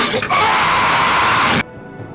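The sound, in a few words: two people screaming on a slingshot amusement ride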